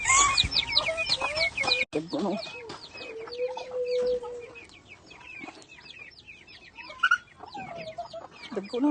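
Chickens cluck and chatter close by in a steady run of short calls, with a person speaking briefly among them.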